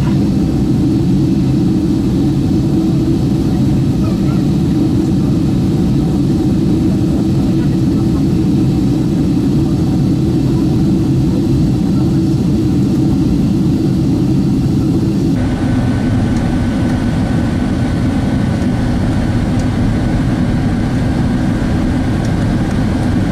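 Jet engine drone of a Boeing 767-300ER in the Prepar3D flight simulator, flying a downwind approach to runway 34 after Amsterdam, a steady loud rumble throughout with a slight shift in tone partway through.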